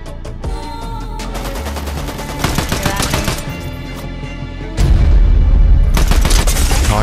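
Gunfire in an Unreal Tournament speedrun match: rapid bursts of weapon shots and booms crackle in dense volleys, then a heavier, louder barrage with a deep blast takes over the second half, no talking.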